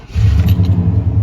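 An old truck engine idles loud through a loud exhaust, a deep pulsing rumble with a steady rhythmic beat, up close, the rod knock tick buried in the throb.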